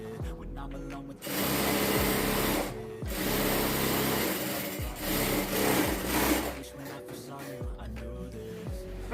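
A sewing machine stitches the sleeve of a jumpsuit in long, steady runs with short pauses between, close and loud, its needle whirring rhythmically, with faint speech in the background.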